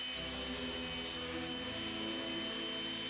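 Steady whirring drone of a sander working a 3/4 inch plywood mounting plate, continuous and even throughout with no talking.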